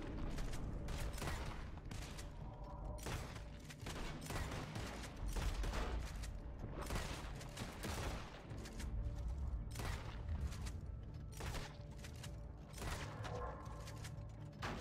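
Rapid overlapping gunshots and volleys fill a shootout in the video game Red Dead Online, loud and sustained with irregular sharp bursts and occasional booms throughout.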